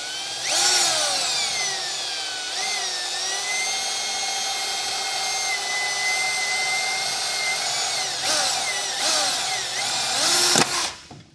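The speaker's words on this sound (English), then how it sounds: "We'll go ahead and get this all drilled out." A power drill whines loudly and steadily while boring holes in stainless steel for a wheel light install, its pitch dipping under load several times before a few short bursts and a stop near the end.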